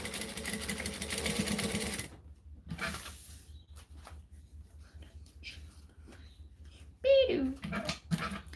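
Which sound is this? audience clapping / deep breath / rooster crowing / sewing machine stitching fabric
sewing machine stitching fabric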